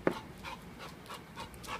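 A well-groomed shelter dog, fresh from fetching a ball, pants quietly in short rhythmic breaths up close, with a small thump at the start and no one talking.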